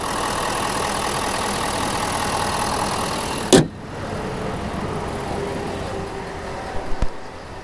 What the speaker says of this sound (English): Of course, really quiet exhaust.